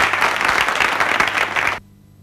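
An audience at a variety show breaks into loud, continuous applause that carries for under two seconds, then cuts off abruptly into near silence.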